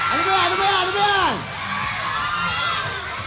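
Screaming and cheering from a studio audience at a Filipino noontime variety show, loud and sustained, with a host's shouting voice over the crowd for the first second and a half.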